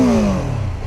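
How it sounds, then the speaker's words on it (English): BMW G 310 GS motorcycle engine revving, a close, loud single rev whose pitch falls away as the throttle drops back. "It's already warm, you can rev it."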